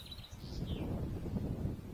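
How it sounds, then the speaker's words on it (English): Birds chirp and sing in the trees of a bluebell wood, a few brief high calls early on, fairly faint over a rustling, low rumble of wind or movement in the foreground. "Birds singing away in the trees."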